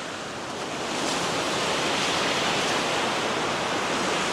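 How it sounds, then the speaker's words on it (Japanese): Ocean surf washes in on both sides of a narrow road along the Avenue of the Baobabs in Madagascar, a dense continuous rush that swells after the first second and stays loud and steady. "両側から波が寄せては返していきます。"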